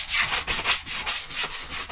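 A hand sands the surface of an Intex Challenger inflatable kayak to scuff it up for epoxy, making close, rasping back-and-forth strokes in a steady rhythm of about four passes a second.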